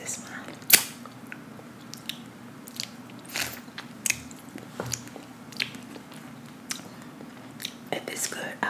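Close-miked ASMR eating of pizza: crisp bites and soft chewing crunches arrive in irregular bursts over a quiet background, with faint whispery mouth sounds between them.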